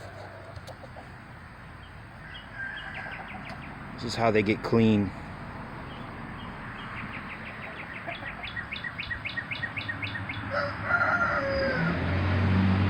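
Chickens cluck and chirp in a busy yard, with a short burst of louder calls midway, while a person speaks briefly over the birds.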